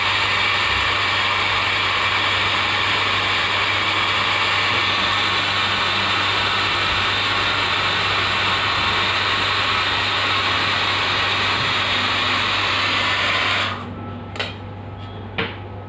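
A hot-air dryer blows steadily and loudly on freshly printed ink on a watch dial for about fourteen seconds, then cuts off, leaving a few faint clicks and knocks in near silence.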